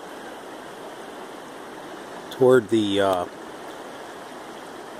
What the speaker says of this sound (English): now they have about 4 inches of water going over the road